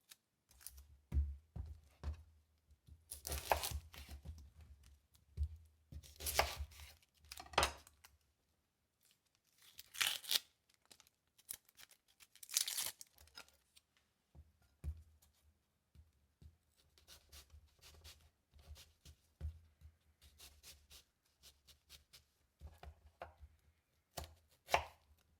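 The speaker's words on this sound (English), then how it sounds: "The onions you want quite finely diced." A knife finely dices onions on a board for a chestnut and sausage meat Christmas stuffing: bursts of quick, crisp chopping taps with short pauses between runs, close and moderately loud, with no talk.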